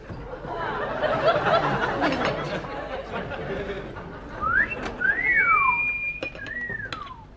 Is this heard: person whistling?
yes